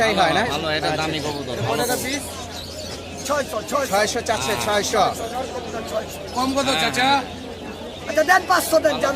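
Pigeons coo and flutter continuously amid a busy crowd at a pigeon market in Jinjira, Bangladesh, with people talking and bargaining close by over the birds.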